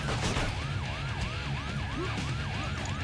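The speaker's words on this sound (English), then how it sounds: "Police sirens, go away." Police sirens wail in the video game Painkiller: Hell and Damnation, a loud, repeated rising-and-falling sweep that cycles rapidly over a low rumbling game backdrop.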